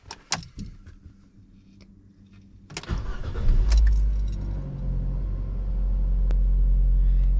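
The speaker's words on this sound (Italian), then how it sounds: "Andiamo a mettere in moto." Keys jingle, then a Fiat 500L car engine cranks and starts about three seconds in, settling into a steady low rumble up close.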